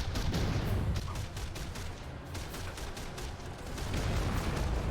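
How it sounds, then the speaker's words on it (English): Panzer IV bow and coaxial machine guns chatter in a WW2 VR real-time strategy game, dense overlapping bursts of rapid fire mixed with other battlefield gunfire, continuous and fairly loud throughout. "Like, you got all the little machine guns firing."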